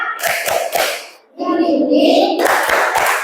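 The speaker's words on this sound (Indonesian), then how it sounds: "Yuk, 1, 2, 3, tepuk semangat." Children chanting in rhythm while clapping together in a classroom spirit clap, sharp sets of group claps at the start and end framing a short sung chant.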